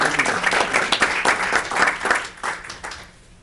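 Applause from the audience at a village board meeting, a burst of many hands clapping that thins and fades out by the end.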